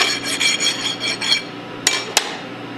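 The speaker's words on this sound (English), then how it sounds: "you'll want to file off any burrs that may be left over on the shaft." A hand file scrapes burrs off the shaft of a Hypro roller pump in a run of quick, even rasping strokes, followed by two sharp metallic taps, close and fairly loud with no talk.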